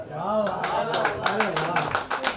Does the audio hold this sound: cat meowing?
no